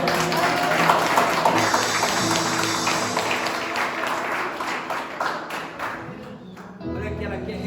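Church congregation applauding at a Portuguese-language evangelical service, sustained clapping with tapping and voices mixed in, dense and loud for most of the stretch before thinning briefly near the end.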